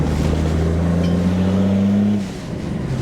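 A car with 300,000 km on it, after a gearbox and differential oil change, drones loudly and steadily while driving, its engine tone rising slightly before easing off near the end, with no voices.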